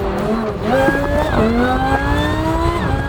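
A boosted Lamborghini Huracan engine revs and climbs through its gears, a rising whine with a shift midway, loud and close throughout.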